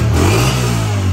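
Motorbike engine revving with a steady, low, droning note that stays loud and close through the whole short stretch, with no talking over it.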